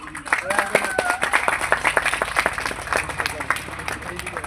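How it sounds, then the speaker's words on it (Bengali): An audience at an International Women's Day club event claps steadily for a medal presentation, a dense patter of hands throughout with a voice speaking over it. "সকলে জোরে হাততালি"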